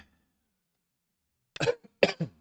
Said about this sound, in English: we are all coughing here at home